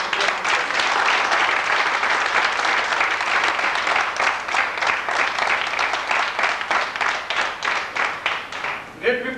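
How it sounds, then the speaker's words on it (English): Applause from an audience at a college alumni meet, loud and continuous at first, then thinning into slower, distinct rhythmic claps before a voice cuts in at the very end. "Ladies and gentlemen, give a thunderous applause to Dr."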